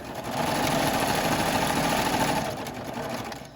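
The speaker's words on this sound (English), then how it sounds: "So I'm sewing right along that edge that we had clipped together." A serger-style sewing machine running a 4 thread seam along a pillowcase edge, a steady fast mechanical whir that holds constant then eases slightly near the end, close up.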